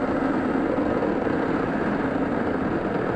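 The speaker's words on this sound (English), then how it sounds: "the first stage engines will begin to throttle down in preparation for max Q" Falcon 9 rocket first stage engines during launch, heard as a continuous broadband roar, steady and loud with no breaks.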